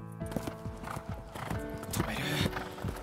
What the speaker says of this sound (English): It's going to make the horse jump high.